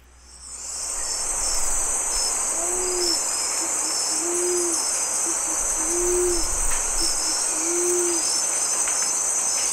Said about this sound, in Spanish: Scaled Pigeon, Patagioenas Especiosa, Paloma Escamada.